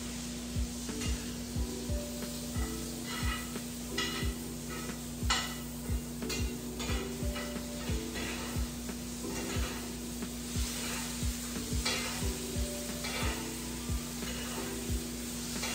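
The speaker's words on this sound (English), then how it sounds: "it maybe feels long as I'm sitting here basting" Food basting in a frying pan, a constant loud sizzle and spatter with rhythmic spoon scrapes and taps repeating every second or so.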